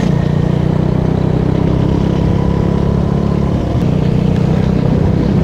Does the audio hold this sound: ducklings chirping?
no